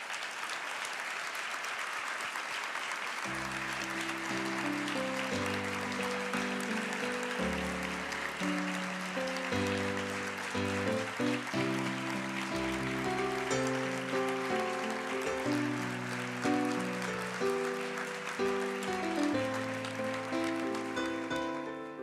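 A crowd rises and applauds steadily for about twenty seconds at a university distinction ceremony, dense clapping filling a large room while organ-like music plays underneath.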